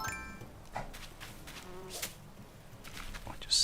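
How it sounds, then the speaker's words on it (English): An insect buzz from an Animal Crossing game, a bee flying nearby, hums faintly and intermittently over low game background sound. "Oh, I don't think I've caught a bee before."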